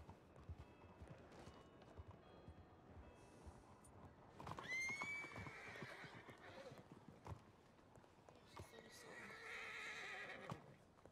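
A horse whinnies once amid background video game sounds and voices, with faint hoofbeats clopping along.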